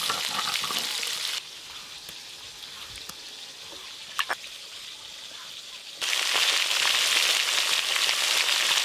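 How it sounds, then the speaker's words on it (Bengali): Bhorkol fish frying in a pan: a strong sizzle that drops to a quieter hiss with a few sharp clicks of utensils, then surges back loud and continuous. "দেখতে দেখতে এই মাছগুলো ভাজা হয়ে গেল।"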